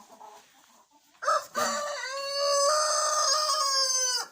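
Rooster crowing loudly and close in a henhouse, a long drawn-out cock-a-doodle-doo after a few short hen clucks and rustles, with no talk over it.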